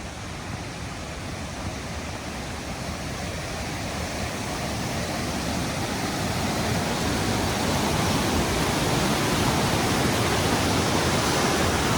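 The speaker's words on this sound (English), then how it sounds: "this is Deer Creek coming down from the highway, joining in with Chinook Creek at the bottom." Deer Creek tumbles down to join Chinook Creek in Mount Rainier National Park, a dense, continuous rush of flowing water that fills the whole span, steady and fairly close, slowly swelling slightly.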